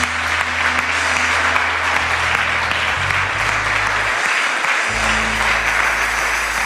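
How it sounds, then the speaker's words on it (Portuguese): A church congregation claps loudly and continuously at the close of a worship service, a dense, even wash of applause with a low rumbling hum underneath and little voice over it. "Você pode aplaudir o Senhor, que Ele merece"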